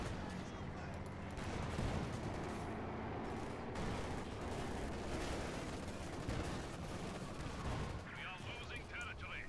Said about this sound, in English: Great hits on the line of Panzer IV there by the anti-tank guns and whatnot